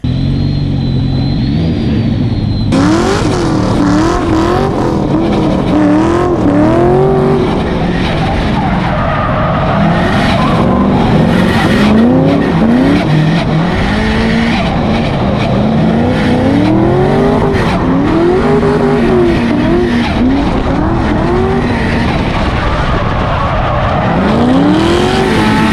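Nissan S13 Silvia drift cars scream loudly through a lap, engines revving hard in rising and falling sweeps while tyres squeal continuously, with one car chasing another close behind.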